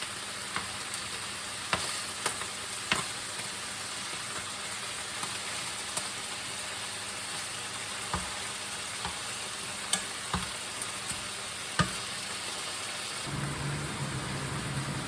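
Pork pieces browning in a frying pan for a creamy mushroom sauce dish, a steady close sizzle running throughout with occasional sharp crackles and pops, the hiss shifting in tone near the end.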